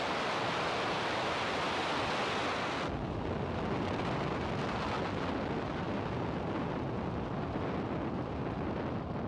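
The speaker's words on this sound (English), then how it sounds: "Ignition. And liftoff Falcon 9." SpaceX Falcon 9 rocket igniting and lifting off from Vandenberg on a Starlink mission, a massive continuous roar of broadband rumble and crackle that fills everything, heavy and unbroken, easing slightly after the first few seconds.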